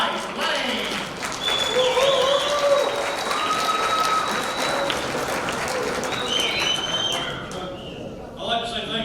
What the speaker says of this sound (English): How about a nice round of applause for the 2019 Great Race USA Street Stock Champion, Mike Lane.